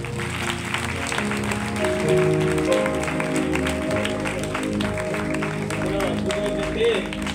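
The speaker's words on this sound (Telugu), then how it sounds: "చప్పట్లు కొట్టున్నాం" A church congregation applauds during a 2025 New Year calendar release at a Christian prayer hall in Ganguru, with clapping blended into sustained music tones and some voices.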